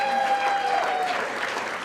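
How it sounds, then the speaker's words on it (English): A crowd at a women's business expo breaks into a big round of applause for a staff member, loud, dense clapping filling the whole moment with a faint tone ringing beneath it early on. "a big round of applause to Karen Stout"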